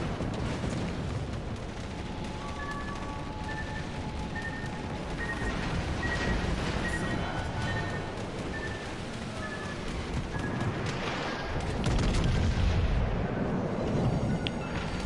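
Naval shells striking an enemy ship in World of Warships, with a steady rumbling barrage of distant blasts and a heavier impact rising near the end, over constant battle noise and faint alert tones.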